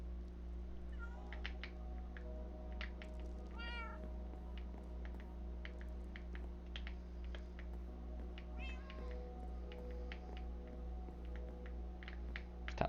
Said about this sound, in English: Got lots of cats in this wizard tower.